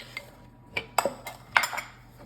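A spoon clinks against a bowl as Coca-Cola cake batter is combined, with vanilla and baking soda among the ingredients; three or four sharp taps sound close by, separated by short quiet gaps.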